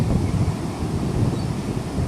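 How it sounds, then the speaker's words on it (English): Ocean surf on a windy, cold Florida winter beach, a steady wash of breaking waves with heavy wind buffeting the microphone, loud and continuous throughout. "Look at those waves."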